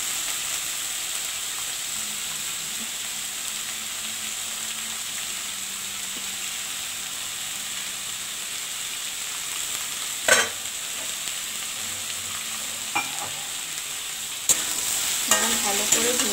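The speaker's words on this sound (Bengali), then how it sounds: "ভালো করে ভেজে নেব।" Soybean chunks fry in a pan with ground roasted cumin, giving a steady, even sizzle close by, broken by a few sharp scrapes and clinks of the stirring spoon near the end.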